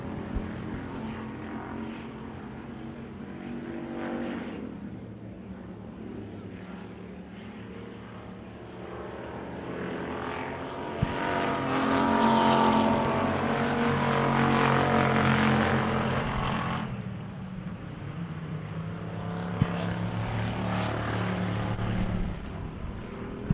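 Pure stock race cars roar around a dirt oval during a Wissota race, a steady engine drone that swells as cars pass side by side, heard from a distance with no talk.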